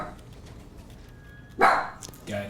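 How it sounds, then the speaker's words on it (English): Remington, a pet rat, gives a sharp bark-like squeak burst near the end, followed by a shorter second yip, with faint voices and room noise before it. "Why is Remington barking?"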